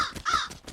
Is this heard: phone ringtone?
no